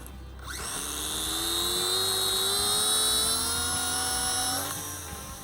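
The electric motor of a Guillows Hurricane RC model plane winds up to a high, steady whine at raised throttle. It holds for several seconds, then cuts off sharply, heard close and alone.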